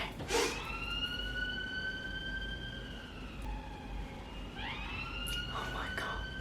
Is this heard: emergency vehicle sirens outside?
yes